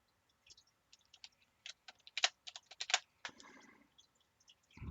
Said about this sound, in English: all I have to do is type val